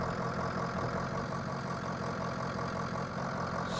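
A diesel plow truck from the Snow Plow video game sits idling nearby, its even, unbroken low drone running on without talk or other sounds.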